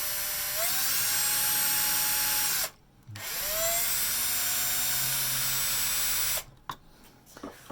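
A power drill bores holes into a heating element base, running loud and steady with one brief pause, then stopping to a few scattered clatters near the end.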